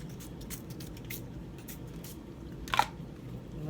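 A single short hiss of Sol de Janeiro perfume sprayed from a bottle, a quick close puff against a quiet indoor room background.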